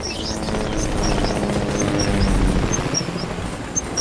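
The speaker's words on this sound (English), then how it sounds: "I mean, helicopter." A helicopter flies nearby in the video game Fortnite, its steady buzzing rotor drone holding at a constant level throughout with faint chirpy game sounds above it.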